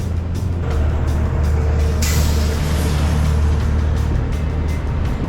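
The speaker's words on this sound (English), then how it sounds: "The truck over the bridge is vibrating." A truck crosses a vibrating bridge with a loud, close, heavy rumble, and a sharp hiss of air brakes bursts out partway through before the road noise carries on.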